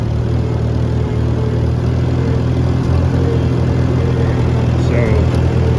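A Farmall C tractor engine runs steadily close by, with a continuous low throbbing drone at even loudness and no pauses.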